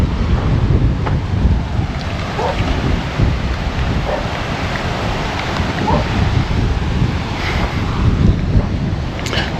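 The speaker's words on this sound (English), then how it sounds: "Look at the beach. Look at the sea." Steady wind buffeting the microphone over a continuous wash of sea waves at a beach, loud and constant throughout with no voices.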